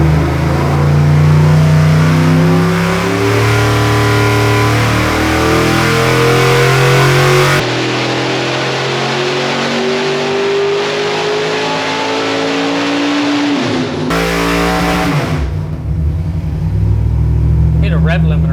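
A C5 Corvette's LS1 V8 revs up toward its rev limiter, a loud, steady engine roar with pitch shifts that drops and surges back near the end, with talk mixed in.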